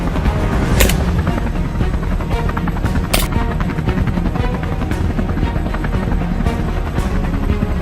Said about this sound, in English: The use of helicopters in hunting and controlling wild boars